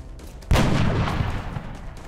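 A single loud gunshot cracks out in XCOM: Enemy Within as a soldier takes a critical shot, followed by a rumbling echo that slowly fades.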